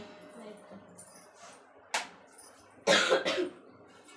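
Two or three sharp coughs burst out close by, the loudest pair near the end, with faint background murmur between them.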